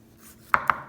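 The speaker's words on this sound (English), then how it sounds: "cut up some onion. You can make whatever shape you want." A knife cuts through an onion on a cutting board, making two quick, sharp chops close together, near and distinct in a quiet room.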